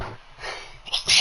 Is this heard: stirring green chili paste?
no